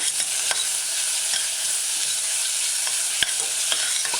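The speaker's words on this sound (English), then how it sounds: "Stir it in, coating all your mushroom pieces with herbs." Herbs stirred into mushroom pieces frying in a pan for a vegan mushroom tomato stew, a steady close sizzle with a few soft spoon scrapes against the pan.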